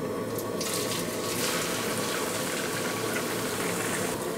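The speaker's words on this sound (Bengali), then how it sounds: "ডুবো তেলে পেঁয়াজটাকে ভাজতে হবে" Sliced onions deep-fry in hot oil for crispy beresta, giving a dense, steady sizzle that stays loud and even throughout, with no one talking.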